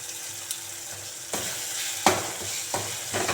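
Ginger garlic paste sautés with softened onion and tomato in a pan, making a soft continuous sizzle broken by a few sharp scrapes and clinks of a spoon stirring against the metal.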